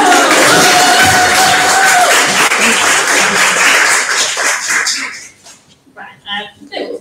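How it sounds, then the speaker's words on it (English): Audience applause at a book launch for the Manchester Anthology fills the room loudly for about five seconds, dense and steady, then thins to scattered claps and murmurs as it dies away. "Another round of applause for everybody who's"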